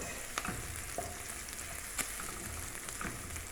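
Onion frying in a pan for Jamaican brown stew fish, a faint, continuous sizzle broken by soft clicks and pops from stirring.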